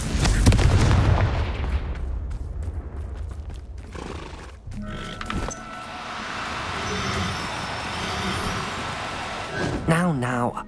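Confringo fire-blast spell explosions in Hogwarts Legacy, a loud rumbling blast at the start followed by crackling bursts and clattering debris, with a voice and a horse-like whinny near the end.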